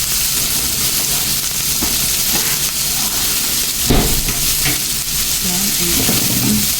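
White onion fries in a pan for bangus sisig with a loud, continuous, close sizzle and hiss, broken by a few clatters of a stirring utensil; a voice speaks briefly.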